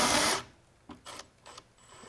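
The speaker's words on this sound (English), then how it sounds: "and we'll drill as much as we can" A power drill boring holes into an electronics board, heard as one loud burst of whirring at the start followed by several short, quieter spurts of drilling.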